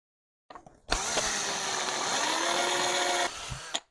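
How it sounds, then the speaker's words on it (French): A drill with a small 2 mm bit bores through the needle of a PWK carburetor, letting out a loud, close, high-pitched whine that holds steady for roughly two and a half seconds before it winds down, with no talking. "Donc je commence avec ma petite mèche de 2."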